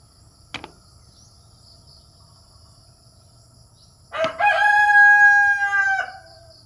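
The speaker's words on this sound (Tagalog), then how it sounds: "Ingay mo naman, manok. Dito ka pa talaga nag-iingay." A single loud rooster crows once, close by, on a countryside farm where sweet bell peppers grow, after a short quiet stretch with a faint earlier click and low background hum.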